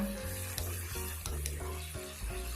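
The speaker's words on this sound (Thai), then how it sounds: "ใส่พริกชี้ฟ้าลงไปนะคะ ผัดคลุกเคล้าให้เข้ากันอีกสักเล็กน้อยนะคะ" Tofu and chickpeas with chili stir-fried in a pan, a steady close sizzle broken by several stirring scrapes and tosses, no talk.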